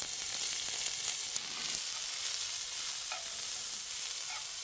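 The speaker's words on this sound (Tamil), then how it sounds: "இப்போ வெங்காயத்தை வதக்கிக்கும்" Continuous sizzling of onions sautéing in oil for a potato and egg snack, steady and close, with a few light clinks of stirring.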